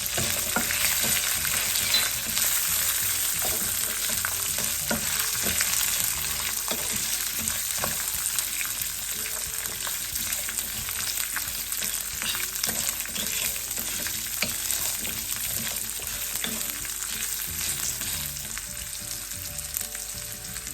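Ginger, shallots and tamarind fry in hot oil for a mint coriander chutney, giving a steady, close sizzle with scattered crackles and occasional stirring scrapes that carry on without a break and with no voices.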